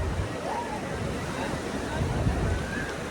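Sea waves wash continuously along crowded Juhu Chowpatty beach in Mumbai, a steady surf roar mixed with wind buffeting the microphone and a distant murmur of beachgoers.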